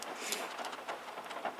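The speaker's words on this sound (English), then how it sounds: "it's raining now, I can tell." Steady rain falling on a roof over a plant growing area, a continuous soft hiss with scattered patter, fairly faint and heard alone.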